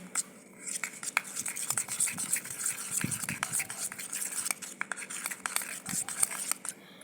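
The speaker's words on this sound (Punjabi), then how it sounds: "ਆਪਾਂ ਚੰਗੀ ਤਰ੍ਹਾਂ ਇਹਨੂੰ ਫੈਂਟ ਲਾਂਗੇ" A spoon beats cream, milk and sugar in a bowl for a bread rabri cake, with fast, steady scraping and clinking strokes close by that continue without a break.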